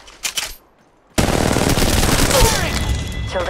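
Gunfire in the mobile shooter Apex Legends Mobile: after a couple of short shots and a brief lull, loud sustained automatic fire rattles on continuously, close and dense.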